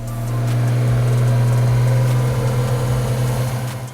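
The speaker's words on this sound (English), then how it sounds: "just fired up my 2JZ swapped Hellcat and got it running for the very first time" A Toyota 2JZ engine swapped into a Dodge Hellcat runs for the first time, a loud, steady, close-up droning idle with a deep low hum throughout.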